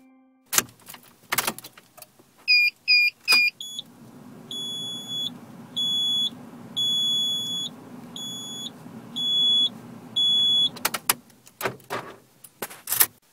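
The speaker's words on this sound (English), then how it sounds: "That is the sound of eCars' new all-electric car called the WeGo." A series of sharp electronic warning beeps from an all-electric car: a quick chirping cluster, then six longer evenly spaced tones, framed by a few clicks and thumps.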